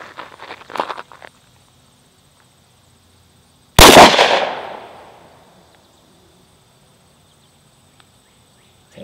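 A Glock 43 pistol firing Sig Sauer 9mm 115 grain FMJ, one loud close gunshot with a ringing echo that fades over about two seconds, after faint handling noises.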